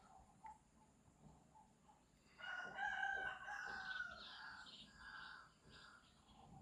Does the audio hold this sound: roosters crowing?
yes